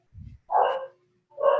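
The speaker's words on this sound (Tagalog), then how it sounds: "may aso." A dog gives two short barks, close and fairly loud, with a low grunt or growl just before them and brief silences in between.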